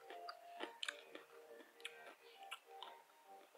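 Crunchy skin of Hokben fried chicken being chewed up close, a string of faint, crisp bites and crackles at an irregular rhythm with no talk.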